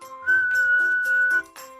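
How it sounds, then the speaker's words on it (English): A group of people whistle one long, steady tone together in a Geico radio commercial, loud and close, with short breathy breaks at the start and end. "What if we all whistled in unison?"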